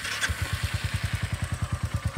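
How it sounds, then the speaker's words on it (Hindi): Royal Enfield Meteor 350 single-cylinder motorcycle idling, its exhaust giving a steady, even thump of low pulses, close and alone. "तो ये है आइडल पे एग्जॉस्ट साउंड।"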